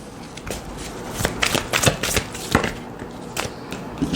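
An oracle card deck is shuffled by hand, with soft, quick riffling clicks and flutters in irregular bursts, fairly quiet and close, with no talking.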